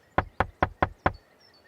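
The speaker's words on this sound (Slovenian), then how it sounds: "Tinky Binky trka na vrata še." Five sharp, evenly spaced knocks on a door, loud and close, each one crisp with a short decay, followed by quiet.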